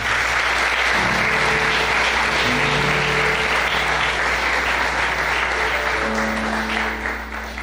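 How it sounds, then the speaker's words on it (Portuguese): Congregation in a church applauding steadily, a dense, loud wash of clapping throughout with faint musical tones underneath, tapering slightly at the end. "dê um aplauso ao Senhor"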